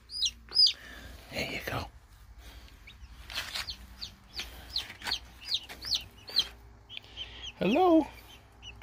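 Newly hatched baby chicks peep and cheep in short, high, bright bursts throughout, close by and scattered, with a deeper cluck near the end, while a person speaks softly a couple of times.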